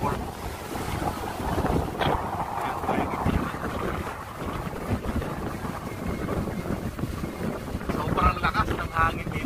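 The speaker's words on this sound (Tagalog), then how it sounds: "Sobrang lakas ng hangin dito" Strong seaside wind on the Jeddah Red Sea Corniche roars and buffets the microphone continuously, with water and surf churning underneath and a voice briefly audible.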